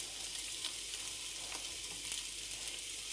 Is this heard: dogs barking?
no